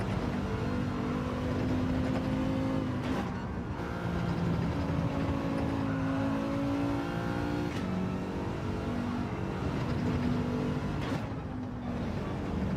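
A race car engine in a racing video game drones loudly and steadily, revving up through the gears with brief dips at each shift, constant and close with no talking.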